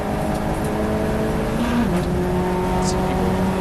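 A Ford Fiesta ST240 race car runs at Silverstone in a ClubSport race, its engine a steady droning hum with a slight pitch shift midway, carried under constant commentary.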